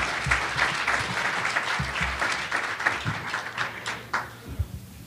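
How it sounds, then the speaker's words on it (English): Audience applause after a speaker's introduction at a talk on clinical applications, steady dense clapping from a crowd that carries through and tapers off with a few scattered late claps. "So please give a warm round of applause for Dr. Michelle Sexton."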